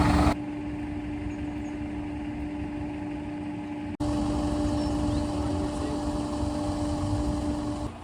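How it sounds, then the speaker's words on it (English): A tractor engine idles steadily nearby, waiting to pull a narrowboat out of the water, a low continuous hum with a faint tonal drone and a brief break partway through. "There's the tractor waiting to pull us out."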